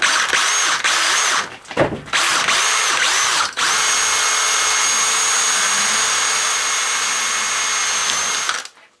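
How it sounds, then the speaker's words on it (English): An ordinary drill boring a pilot hole in sheet metal runs as a loud, steady whine that cuts out briefly twice near the start, then holds and stops abruptly near the end. "we'll put a pilot hole in again"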